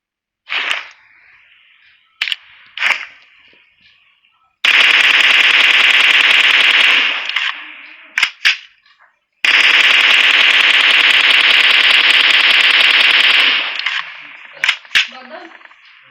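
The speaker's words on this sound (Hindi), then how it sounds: "जब विदाउट कंपनसेटर या सप्रेसर आप ऑटो को यूज करते हो" M416 rifle in a video game firing on full auto with no compensator or suppressor: a few single cracks, then two long sustained bursts of rapid fire, loud and close, with no speech.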